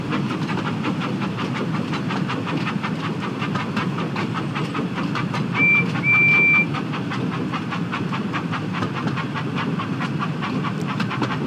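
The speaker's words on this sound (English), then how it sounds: "It does sound so much like a Peckett." Steam locomotive Percy, a Peckett-style engine in a video game, chuffs with a steady rapid exhaust beat and rail rumble, close and continuous, with a brief whistle-like tone midway.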